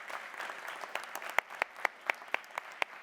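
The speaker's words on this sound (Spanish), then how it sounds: "Un aplauso." An audience applauds speakers at the close of a university panel, a crowd of many hands clapping steadily, with sharper individual claps standing out near the front as it continues.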